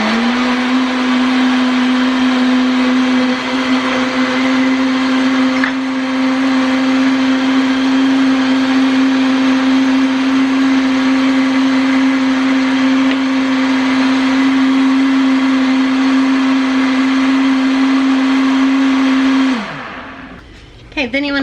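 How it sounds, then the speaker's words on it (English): Blender mixing egg yolks for homemade ice cream, a loud steady motor whine that runs unbroken for about twenty seconds before spinning down abruptly at the end. "next I'm just gonna mix this up in my blender."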